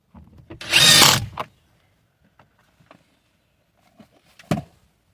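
A power drill runs in one short, loud whirring burst, driving a 10mm bolt into the rear door of a seventh-generation Nissan Maxima during trim work, followed by faint clicks and light handling noises.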